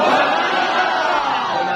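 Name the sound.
crowd shouting religious slogans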